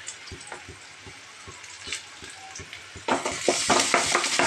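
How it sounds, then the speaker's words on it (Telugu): Ginger paste and curry leaves fry in a pan with a steady sizzle, stirred by soft scraping strokes, and the crackle swells suddenly louder and brighter partway through. "అల్లం పేస్ట్ పచ్చి వాసన పోయేంత వరకు వేగించుకోవాలి."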